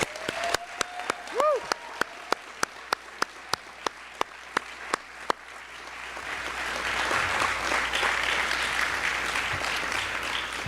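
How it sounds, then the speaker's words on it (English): Audience applause for award recipients at a university alumni awards ceremony, opening with a few sharp isolated claps and a brief vocal sound, then building into a broad, sustained round of clapping from the crowd. "will you please join me for a final round of applause for all of our award recipients?"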